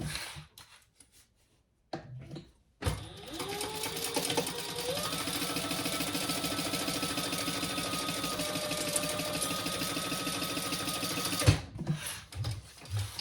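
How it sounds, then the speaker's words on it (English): A sewing machine stitches across the top of a bag's exterior and lining pieces placed right sides together, running in a steady, continuous close-up whir for about nine seconds after a few short starts, then stopping. "put one exterior and one lining right side together and sew across the top with the seam allowance in the pattern"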